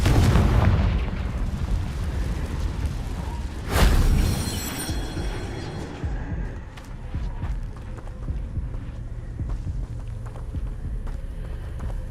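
A Confringo blasting spell explodes in Hogwarts Legacy, a loud, close, sharp boom that rings out and fades over several seconds beneath continuous game rumble and ambience.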